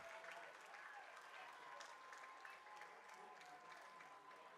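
Crowd applause at an NPSL Great Lakes Conference soccer match between Flower City Union and Ambassadors FC as a veteran player is substituted off, a steady wash of clapping lasting several seconds without a break.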